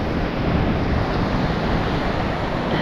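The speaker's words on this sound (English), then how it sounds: "Here comes a big wave." Ocean surf on a flat beach with no gutters or structure, a steady broad wash of rushing water and wind noise filling the whole stretch, loud and close with no clear single crash.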